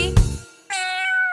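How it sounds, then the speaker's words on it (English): A cat meows once, a clear rising then sustained tonal call, following a brief low thump, close and fairly loud. "It's the sound of a cat."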